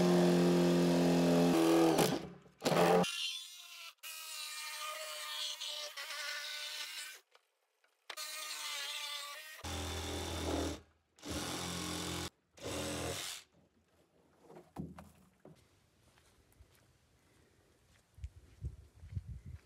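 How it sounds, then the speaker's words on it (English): Bursts of a buzzing jigsaw cutting in several stretches with pauses between, loud and close, followed by quieter handling noises. "I'm going to use our jigsaw."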